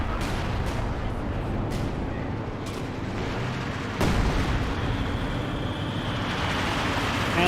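Artillery barrage in a Company of Heroes 2 battle rumbles as a dense bed of low booms and crackling impacts, with a sharper near blast midway and continuous battlefield din.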